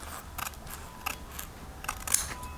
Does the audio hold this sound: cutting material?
yes